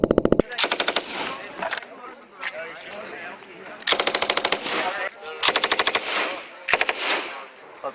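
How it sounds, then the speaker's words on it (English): Light machine gun on an army training range fires several sustained automatic bursts, loud and close, with short pauses between strings of rapid shots. "we call this primarily designed at the TC25-8 standards as a light machine gun range"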